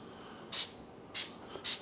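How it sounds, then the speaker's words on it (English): One-calorie cooking oil spray aimed at potatoes: three short, sharp aerosol hisses, close and evenly spaced, against a quiet background. "Half a second spray."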